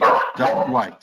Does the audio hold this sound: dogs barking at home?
yes